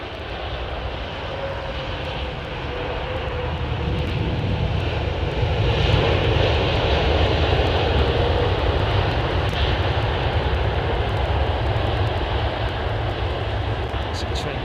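A Trent 1000-engined Boeing 787 airliner roars steadily on a wet runway, a broad engine rumble that swells and holds, with a voice talking over it.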